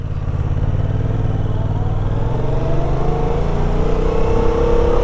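A 2017 Yamaha FZ-07 motorcycle engine accelerates on a road ride, its steady drone rising in pitch as it revs up through the gear, heard close and continuous with wind noise.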